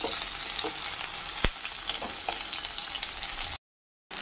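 Onion stalks fry in a pan with a steady, bright sizzle and crackle, close and continuous, broken by a sharp tap or two from stirring before a short silent gap.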